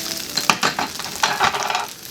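Green peas go into rice frying for Yangzhou fried rice, with a loud close sizzle broken up by several scraping, tossing stirs in quick irregular strokes.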